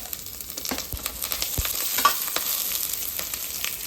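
Dals, mustard seeds, curry leaves, ginger and green chillies frying in ghee for corn upma, a steady crackling sizzle with scattered pops and a few stirring scrapes close by.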